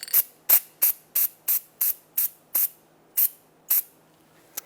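Brake parts cleaner sprayed onto a 2014-2021 Mazda 6 front brake hub, about ten short sharp hissing bursts in an uneven rhythm, close and fairly loud, with no talking.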